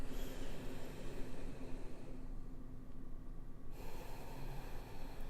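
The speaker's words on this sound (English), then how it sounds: "one last slow inhale and exhale" A single slow, deep breath drawn in and pushed out during a calm morning relaxation session, with a long airy inhale, a brief pause, then a steady exhale, close and clear with no speech.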